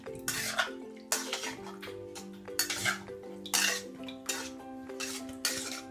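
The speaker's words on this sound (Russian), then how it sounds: "Помешивая ложкой." A spoon stirring and scraping against metal in repeated swishing strokes, with light clinks between them, close and moderately quiet.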